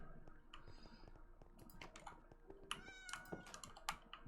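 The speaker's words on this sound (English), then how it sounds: "And kitties, bunch of kitties." Cats meow in short, high calls in the video game Minecraft, heard faintly among quick computer keyboard typing and clicks.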